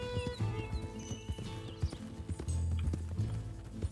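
Horse hooves clip-clop in a steady galloping rhythm in Red Dead Redemption 2, with an occasional whinny, music and game sounds running underneath throughout.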